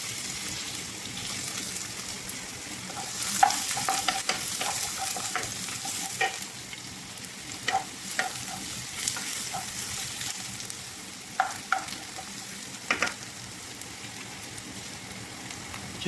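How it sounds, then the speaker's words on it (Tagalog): Garlic and onion sauté in a pan with a quiet, steady sizzle, broken by scattered crackles and pops. "At sisimulan na po natin yung pagigisa."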